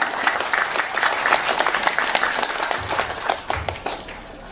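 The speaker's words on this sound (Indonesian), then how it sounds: "Tepuk tangan." Audience applause at an Indonesian religious lecture, dense crowd clapping that carries on steadily for several seconds and eases off slightly toward the end.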